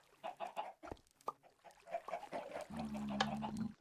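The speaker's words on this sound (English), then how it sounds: "And now we have cold weather chicken along with the Savannah chickens." Clucking from game chickens, cold weather and Savannah breeds, in a farm-building game, a few short close clucks followed by a steady buzzing machine-like drone near the end.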